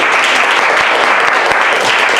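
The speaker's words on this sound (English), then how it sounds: "another round of applause for Liz" A Saturday club audience in Cypress, Texas gives a loud, close round of applause, brisk clapping that holds steady for about two seconds.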